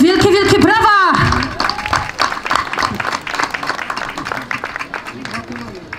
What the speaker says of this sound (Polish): wielkie, wielkie brawa!